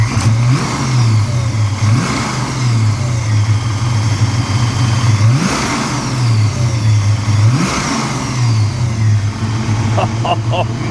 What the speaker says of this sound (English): Let's see if we can listen to that supercharger here. How it sounds.